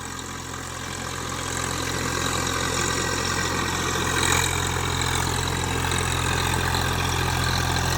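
A Swaraj 744 FE 4WD tractor engine runs steadily in deep mud, a close, continuous low diesel drone that swells slightly after the first second and then holds level without talk.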